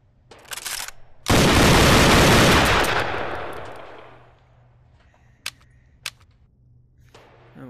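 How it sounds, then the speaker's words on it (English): A WA 2000 rifle fires on full auto in the VR game Gun Club VR. It gives a loud, dense burst of about three seconds with a long decaying tail. A few sharp clicks follow. "even has full auto capabilities. The WA 2000."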